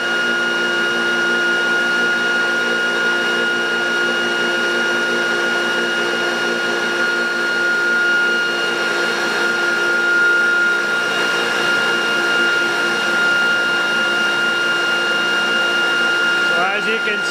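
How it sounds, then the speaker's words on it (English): AVL ReGenX generator prototype running in normal motor mode gives a steady, loud electric whine with stable tonal hum throughout, continuous and close, with no voices heard. "Put it back into normal motor mode without the ReGenX innovation engaged."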